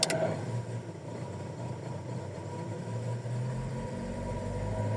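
Car engine idling steadily while its fuel system is forced over from gas to petrol, no throttle applied: a constant low hum with a faint mid-range whir, close and even throughout, with a slight deepening near the end.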